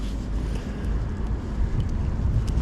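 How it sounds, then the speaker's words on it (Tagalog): Steady wind rushing and buffeting against the microphone, a constant low roar with no voices. "Malamig ang simoy ng hangin."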